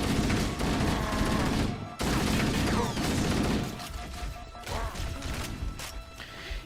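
Assault rifle fire in Halo, dense sustained bursts of automatic gunfire mixed with impacts and explosive crashes, loud and nearly continuous with brief pauses.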